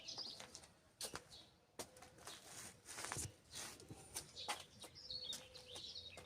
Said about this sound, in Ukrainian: Хочу, щоб ви насолодилися теж тим співом, солов'їним.